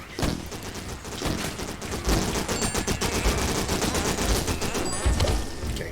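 Rapid automatic gunfire in the online arena shooter Morphies Law, dense bursts of shots crackling continuously with heavy thumps, loud and close with no break across the stretch.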